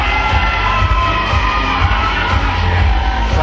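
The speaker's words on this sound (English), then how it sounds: "You heard the cheer there from the crowd." A wrestling match crowd roars and cheers steadily throughout, a dense, loud wall of shouting and whooping with no break.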